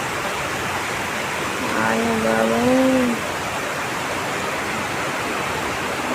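Floodwater from heavy rain in Balanagar rushes steadily through a small canal, a loud continuous broadband roar throughout, with a brief voice exclaiming over it midway.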